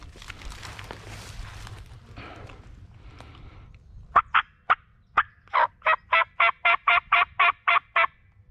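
Wild turkey gobbles ring out in a rapid run of sharp, repeated calls, some distant and some closer, after a stretch of faint rustling outdoor background.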